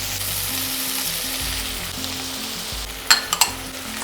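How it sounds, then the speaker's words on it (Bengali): Chopped chili, onion, tomato, capsicum and sweet corn sauté in a pan with a steady, even sizzle, a few clinks of stirring near the end, and soft music underneath. "এরপর সবজিগুলোকে হালকা করে সতে করে নিতে হবে"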